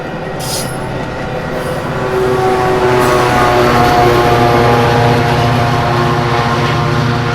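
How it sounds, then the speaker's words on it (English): A Metra commuter train pulls out of Wheaton station toward Chicago at sunset, a steady rumbling roar that grows louder partway through and holds, with a sustained low engine drone and no voices. "a Metra train departs Wheaton bound for Chicago"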